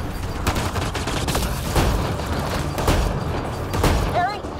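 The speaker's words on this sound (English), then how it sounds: "Just keep firing!" Sustained rapid gunfire from a firefight in the video game Mass Effect Andromeda, with repeated loud bursts and shots over a dense, busy background throughout.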